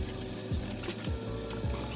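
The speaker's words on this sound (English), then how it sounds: "Got my soap, got my water." Warm tap water runs steadily for hand washing, a continuous close splashing stream without any talking.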